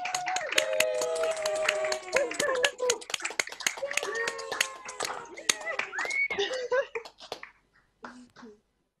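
Graduates at a virtual graduation ceremony applaud over a video call, scattered bursts of clapping from many small unmuted feeds, mixed with overlapping voices and cheers, thinning out to a few last claps at the end.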